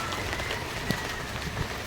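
Steady heavy rain patters on a surface, a continuous wash of drops with no voices.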